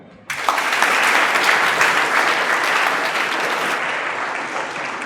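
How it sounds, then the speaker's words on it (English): Audience applause for a guest speaker at a lecture on East Pakistan, bursting in abruptly and continuing as loud, dense clapping that eases slightly toward the end. "Just clapping for him."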